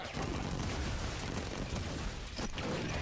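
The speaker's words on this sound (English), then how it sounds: "I just binary rifle this core" Binary rifle fire in Halo 5: Guardians on Legendary difficulty, a dense, loud burst of booming crackle that fills the whole clip. A short sharp gap near the end breaks it, with no talk.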